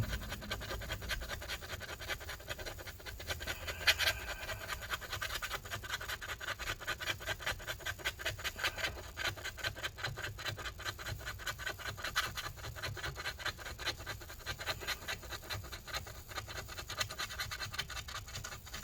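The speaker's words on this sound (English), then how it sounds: "So we're gonna scrape this stuff up just like this." A tool scrapes battery adhesive out of a 15-inch 2012 MacBook Pro Retina A1398 in quick, repeated close strokes, a quiet continuous scratching with no voices.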